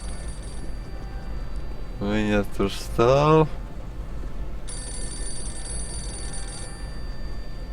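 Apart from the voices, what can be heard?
telephone ringing in video game Postal 2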